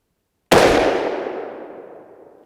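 A single sharp 7.5x55 Swiss rifle shot firing a 165 grain Hornady SST load, a loud abrupt blast that rings and decays for about two seconds outdoors.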